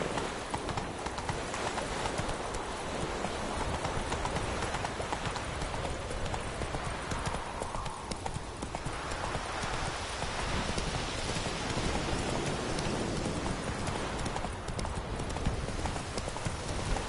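Horse hooves gallop in a steady, fast clip-clop rhythm through all seventeen seconds in The Witcher 3, close and loud over a dense wash of rain-like noise, with no voices.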